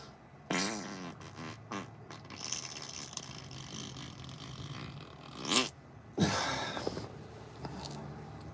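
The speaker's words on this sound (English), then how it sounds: "The fart noise was on point." A close, loud, sputtering fart noise with rasping, buzzy bursts and wet, scraping tones, followed by a few shorter blats and a final longer rasp.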